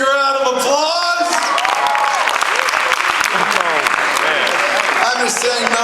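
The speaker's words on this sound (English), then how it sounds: "Give them a big round of applause." An audience at a stage hypnosis show applauds the volunteers with steady, dense clapping that fills the room throughout, mixed with scattered shouts and cheers.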